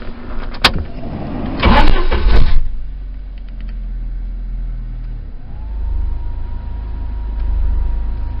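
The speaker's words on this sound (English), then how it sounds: "Let's crank the Jeep and see what happens." A Jeep Wrangler YJ engine cranks briefly with a harsh, ragged burst, then catches and settles into a steady, loud idle that rises slightly near the end.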